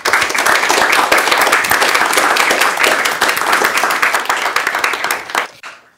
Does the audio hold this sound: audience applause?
yes